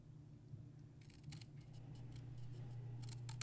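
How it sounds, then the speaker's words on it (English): Scissors cutting through scored paper card for a mini matchbox card, a series of quiet crisp snips clustered around the middle and end, faint over a steady low hum. "I'm going to cut just to the inside of the score line"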